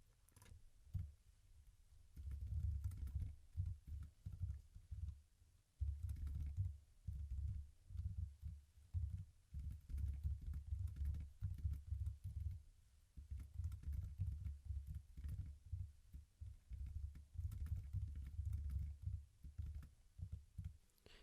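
Someone types on a computer keyboard while entering commands in spacecraft mission-design software, producing close, quiet bursts of rapid key clicks separated by short pauses.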